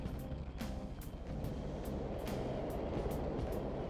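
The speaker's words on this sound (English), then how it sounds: "It's a train." A subway train runs through a station in Persona 5, giving a steady, fairly quiet rumble with a regular clatter of wheels over the rail joints and no talking.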